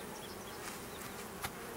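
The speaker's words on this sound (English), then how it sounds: "We have some bees emerging, coming out for the first time." Honey bees buzz steadily during a hive inspection, a dense and even hum close by, with a faint tap near the end.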